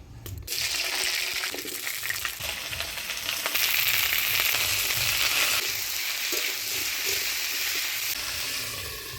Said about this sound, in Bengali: সবার প্রথমে আলু ফুলকপিটা ভাজে নেই হলুদ লবণ দিয়ে